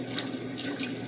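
Tap water runs steadily into a sink as dishes are washed, a continuous close splashing hiss with small clinks, no talk over it.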